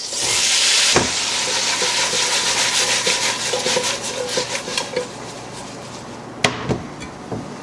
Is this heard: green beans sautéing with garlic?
yes